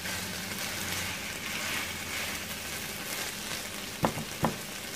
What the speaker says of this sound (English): I stir everything up and let it simmer together for extra 30 seconds to 45 seconds